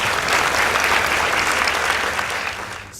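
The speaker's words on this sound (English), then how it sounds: "Please give them a round of applause." An audience applauds a high school debate team after a school debate competition result, loud, dense clapping close by that holds steady before tapering off at the end.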